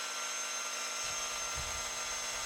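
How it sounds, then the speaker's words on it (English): Rotary polisher with a foam pad buffing intermediate compound on a 54-year-old Cessna 206, a steady whirring drone that kicks in partway through and continues at moderate level. "rotary polishing with a foam pad in this combo, as compared to that previous knockdown step, does produce a better shine"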